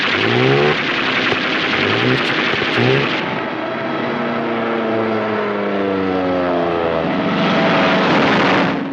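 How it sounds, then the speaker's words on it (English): WWII strategic air force warplanes take off in North Africa, recorded on a 1944 film soundtrack: a loud, continuous roar of propeller engines whose pitch shifts as the aircraft pass. "day after day, the strategic air force was taking off to kill the enemy's effort at its starting point"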